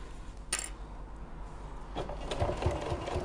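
Domestic sewing machine running a long base stitch at maximum stitch length, a quiet motor whir with a short sharp click near the start, then a faster rattling run of needle strokes.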